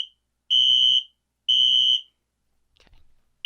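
During a system test, a building fire alarm blares two long, piercing electronic tones of about half a second each, with a short gap between them. A few faint clicks follow before another tone begins.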